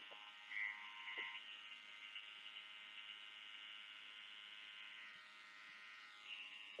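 Electric hair clippers buzz steadily during a clipper-over-comb haircut on a modified mullet, a thin, constant mid-pitched hum at close range with a few faint clicks and no talking.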